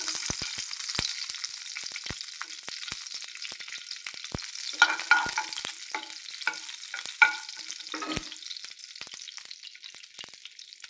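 Ghee melting in a hot pan, a bright continuous sizzle and crackle with scattered pops and a few light stirring scrapes, close and fairly loud.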